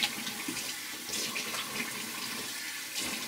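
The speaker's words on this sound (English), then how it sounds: "I'm gonna go ahead and rinse off my face" A sink tap runs steadily while a face is rinsed, a close, continuous rush of water with soft splashing variations throughout and no talking.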